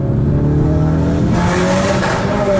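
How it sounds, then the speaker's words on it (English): Ford Focus RS fitted with a Mountune exhaust system accelerating hard through a tunnel, a loud sustained engine roar with rising harmonic tones echoing off the walls, no talk. "Okay, we can accelerate through it."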